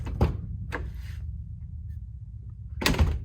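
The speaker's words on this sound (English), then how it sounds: "listen to that door" A few solid thumps of a car door shutting nearby, one early and a heavier one near the end, with quiet background between.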